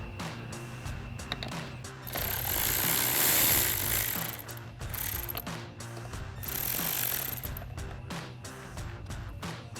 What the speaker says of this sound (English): we'll take our 7 millimeter socket and extension on our ratchet and go ahead and remove that screw